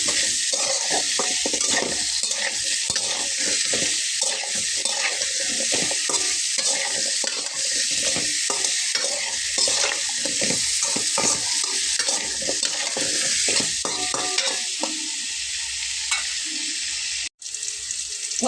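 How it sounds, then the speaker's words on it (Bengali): Potatoes with turmeric fry in a pan, a loud, continuous hissing sizzle with rapid stirring scrapes throughout, close up and unbroken apart from a brief cut near the end. "এবং দিয়ে নেব সামান্য পরিমাণ হলুদ। আলুগুলোকে একটু ভেজে নেব।"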